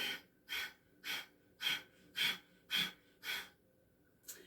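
Kundalini Yoga breathing with a constricted throat: seven strong, rhythmic hissing breaths close to the mic, evenly spaced about half a second apart, then a softer final breath, with no talk.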